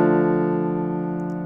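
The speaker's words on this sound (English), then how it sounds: "And what you're hearing is a sampled piano." A single sustained chord from a sampled piano played on a MIDI keyboard into BS16i on an iPad, ringing clearly alone and slowly fading.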